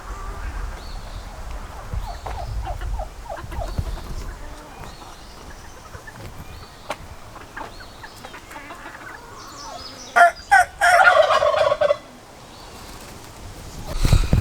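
Small bantam chickens and a little rooster on an Oklahoma homestead cluck and call against a low outdoor background, with a louder burst of squawking calls near the end.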